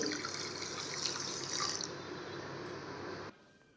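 Water is poured from a cup onto sugar in a pan to make syrup for temple-style Andhra boondi, a steady close splashing stream that stops abruptly near the end.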